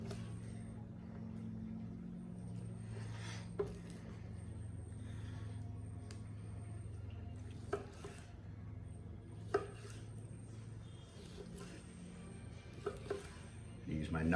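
Knife slicing smoked beef tenderloin and leg of lamb gyro meat crossways on a board, a series of faint, sparse cuts and taps under a steady low hum.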